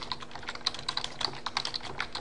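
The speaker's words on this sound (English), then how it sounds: "You just type it in here" Quick, light keystrokes tap on a computer keyboard in an irregular rhythm, close and fairly quiet, with no talking.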